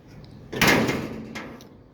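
The door of a 1929 Chrysler slams shut with one solid, loud, close thud that rings briefly and fades, with no talking over it.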